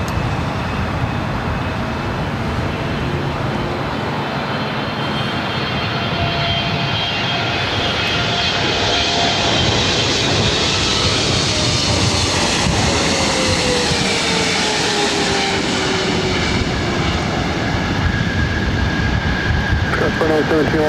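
An airplane arriving at LAX airport, its engines a broad, steady roar with a slowly falling whine as it passes close, loud and sustained throughout.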